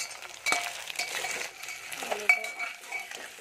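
Potatoes and tomatoes with ginger-garlic paste are stirred in a pan with a metal utensil, giving scattered light clinks and scrapes against the pan, close up and fairly quiet, with no voices.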